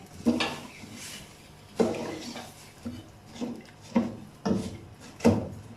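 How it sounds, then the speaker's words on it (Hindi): A spoon stirs sugar into a tamarind and plum drink, making six or seven distinct knocks and scrapes against the vessel at irregular intervals, close and fairly loud with short quiet gaps between strokes. "चीनी डाल देंगे, चीनी को अच्छे तरीके से हिला लेंगे।"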